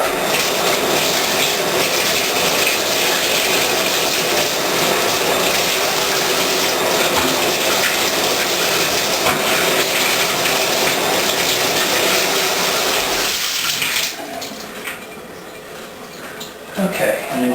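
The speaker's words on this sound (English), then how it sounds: "Okay, so I'm going to rinse it off now." A steady, loud gush of water rinses a rolling ball sculpture, hissing continuously for about fourteen seconds before it drops to a quieter trickle.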